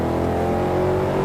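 Mercedes-AMG car at launch with traction control off, its engine roaring steadily and loud as it accelerates hard and hits each gear, a continuous close-up drone throughout.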